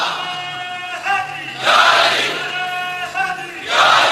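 Large congregation at a religious gathering marking the Battle of Badr, raising loud chanted slogans in repeated surging bursts over a droning voice.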